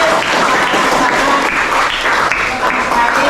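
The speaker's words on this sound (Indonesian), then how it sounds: "Tepuk tangan untuk pembelajaran hari ini." Classroom applause at the end of a lesson, a steady dense clapping from a group of students that fills the whole stretch evenly at close range.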